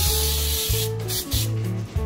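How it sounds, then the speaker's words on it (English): Baking spray is sprayed onto a cookie sheet in short, loud, close hissing bursts, about three sprays in quick succession. "we're gonna spray our cooking sheet just like that."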